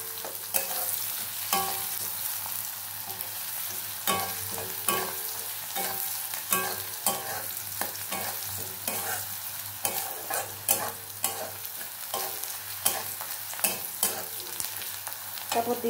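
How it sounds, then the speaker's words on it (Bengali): Chopped onions sizzle steadily in a pan while a utensil scrapes and stirs them in frequent irregular strokes, close and clear with no talking. "পেঁয়াজটাকে একটু লাল লাল করে ভেজে নেবো"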